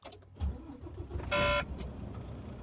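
A truck engine cranks and starts inside the cab during an in-cab inspection, a short starter whine followed by a steady low idle rumble, close and fairly quiet with no talking.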